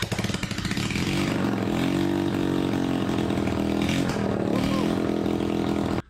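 Rebuilt 1987–88 Honda ATC/TRX 130cc high-compression engine running steadily and loudly with a buzzy, rattly mechanical tone, then cutting off abruptly at the end.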